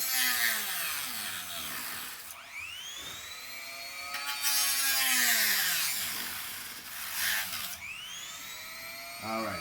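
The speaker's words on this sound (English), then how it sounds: "I can just sand till the silver line is gone and have my mark." Power sanding of a carbon fiber foam core keel built from a goalie stick, a loud continuous whining roar whose pitch repeatedly sweeps up and down as the tool is pressed and eased, close and steady throughout.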